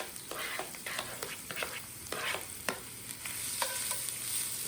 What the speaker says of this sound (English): So I'm going to give that a stir.